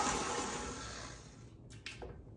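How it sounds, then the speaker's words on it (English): An electric mixer whirs steadily while stirring French silk pie filling, a loud continuous motor hum that cuts off near the end, leaving brief clatter and a faint rustle. "one more last stirring of it"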